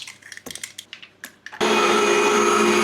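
After a few clinks and knocks, an electric mixer switches on and runs with a steady whir, beating butter, sugar, oil and eggs for a lemon cake.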